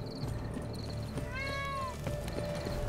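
A single cat meow, clear and mid-length, rising and falling over a quiet background, in the video game The Witcher 3: Blood and Wine.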